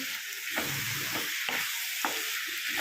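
Spoon stirring spices through a capsicum and tomato meal maker curry in a hot pan, with steady sizzling frying underneath and a few scraping strokes, close and continuous, no voices.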